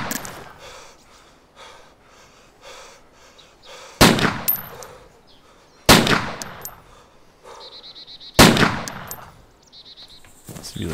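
MP5K submachine gun firing in the video game DayZ, three loud, sharp bursts spaced a couple of seconds apart, each ringing out with a decaying echo, against quieter background rustling.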